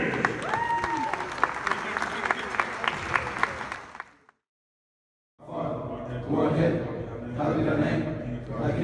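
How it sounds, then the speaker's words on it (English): A gym crowd at a high school basketball senior night applauds the seniors, loud sustained clapping with some cheering that cuts out briefly, then resumes just as strongly. "Let's give a round of applause to all the seniors."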